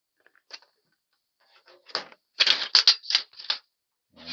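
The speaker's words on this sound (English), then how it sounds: "Use a simple pair of sheet metal shears." Sheet metal shears cut aluminum trim coil in a quiet workshop, giving a quick run of sharp, crisp snipping clicks close by, a few light ones first, then a denser cluster of louder cuts.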